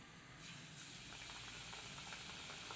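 Wheat diamond biscuits frying in hot oil over a medium flame, giving a steady, close sizzling hiss that holds evenly throughout.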